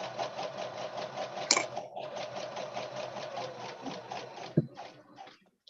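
A sewing machine stitches pieced quilt squares, its needle running in a steady, fast rhythmic chatter up close, with a brief clack partway through and a pause near the end before it stops.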